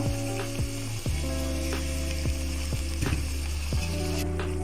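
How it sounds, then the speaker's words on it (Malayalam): Ground coconut paste hitting sautéed onions in a hot pan, a continuous close sizzle, with repeated sharp metallic scrapes and clinks of a spoon or pot against the pan at an irregular pace. "നമുക്ക് ഇതിലേക്ക് അരച്ചെടുത്ത തേങ്ങ ഒഴിച്ചു കൊടുക്കാം"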